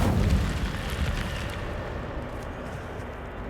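A fiery Incendio spell from the Hogwarts Legacy video game erupts in a loud, rumbling roar that starts strong and slowly fades into a low, steady crackle.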